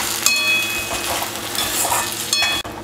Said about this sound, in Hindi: थोड़ी देर इसे भून लेते हैं जब तक कि ऑयल जो है वो सेपरेट नहीं होने लगता।